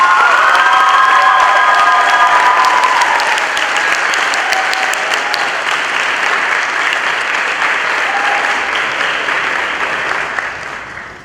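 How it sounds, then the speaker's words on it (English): An audience at a spring school choir concert claps and cheers loudly for the graduating class, with whoops and shouts over dense applause that gradually thins and fades toward the end. "Let's give our class of 22 one round of applause."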